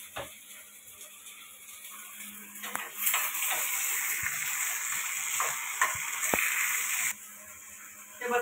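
Chopped tomatoes dropped into hot tempering oil for tur dal varan, a steady bright sizzle that flares up and holds for several seconds with faint clinks of a utensil against the pan.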